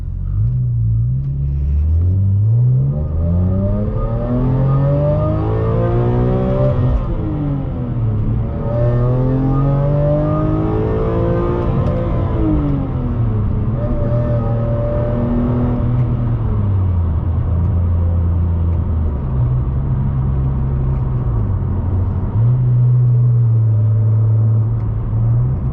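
A BMW E46 M3 CS with ZCP package, its straight-six engine droning loudly from inside the cabin while driving, rising and falling through several rev sweeps and gear changes, with a steady low rumble underneath.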